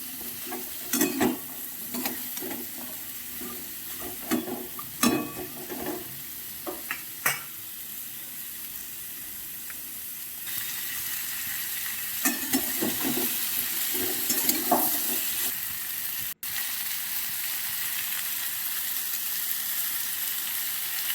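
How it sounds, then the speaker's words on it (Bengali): Mixed vegetables stir-fried in hot oil for a vegetarian curry, with a steady sizzle throughout and repeated scraping strokes of a spatula against the pan, louder in bursts early and again midway, close and alone. "এবার তেলের মধ্যে একটু ভালো করে নাড়াচাড়া করে নেব।"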